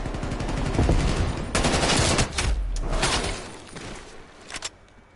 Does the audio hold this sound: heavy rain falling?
no